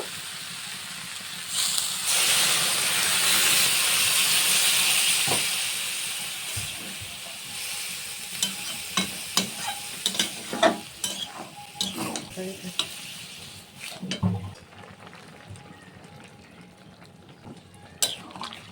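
Prawns frying with potatoes and flat beans in a pan hiss and sizzle steadily as water is poured in, then a spoon scrapes and stirs in irregular clattering strokes while the sizzle gradually fades.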